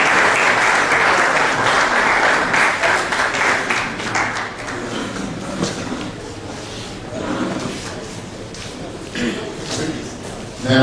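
A church assembly applauds steadily as a king arrives, dense clapping holding strong throughout with murmurs and voices mixed in beneath it.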